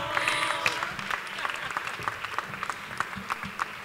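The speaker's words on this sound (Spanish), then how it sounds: "te merece este fuerte aplauso" Audience applause at a flamenco award gala, a steady patter of clapping with a voice speaking over it at the start and faint chatter beneath.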